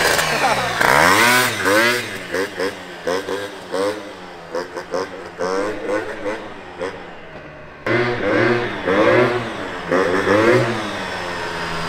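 A gas two-stroke moped with an expansion pipe and carburetor whines at speed, its high buzzing tone rising and falling steadily as the rider accelerates, loud and close throughout.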